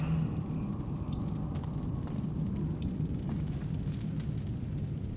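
Steady roaring crackle of a fire in the Thief stealth game's underground prison, loud and continuous, with faint brief clicks and thuds over the low rumble.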